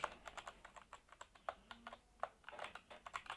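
Fingers tapping on a computer keyboard while entering SQL values, a quick irregular run of close, crisp keystrokes with no voice.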